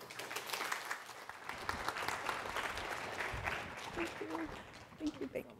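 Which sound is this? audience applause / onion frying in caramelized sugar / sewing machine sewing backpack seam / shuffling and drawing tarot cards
audience applause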